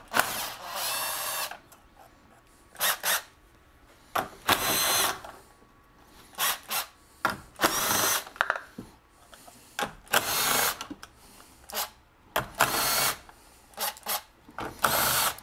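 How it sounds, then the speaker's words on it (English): A small impact driver with a 9/16 socket removing nuts on a 2010-or-later Club Car Precedent 48-volt golf cart, firing in repeated short hammering bursts separated by pauses, close and fairly loud. "9/16 socket on my little impact driver, and I also have a half inch socket just in case."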